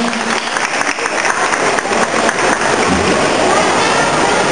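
Loud, dense applause fills a chess tournament closing ceremony, a continuous wash of clapping from a sizable audience that holds steady throughout without talk.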